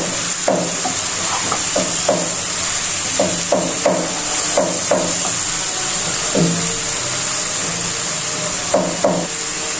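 Green chilies go into a hot frying pan with pointed gourd and shrimp, a steady bright sizzle underneath repeated sharp clinks and knocks of a utensil against the pan, close and fairly loud.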